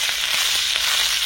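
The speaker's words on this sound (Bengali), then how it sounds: "ভালো করে নেড়েচেড়ে একটু ভেজে নেব।" Ginger and asafoetida stir-frying in a pan, a steady close sizzle with faint crackles as the spices are turned, no voices.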